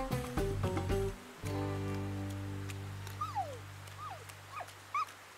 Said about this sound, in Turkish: bu yavru köpek sesi